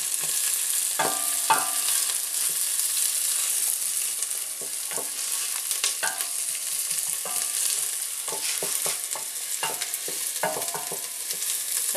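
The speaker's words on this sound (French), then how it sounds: "on est en train de faire suer nos oignons" Onions sweat and fry in a pan for spinach ngaï ngaï, giving a steady soft sizzle throughout, with occasional stirring scrapes and clicks over the top.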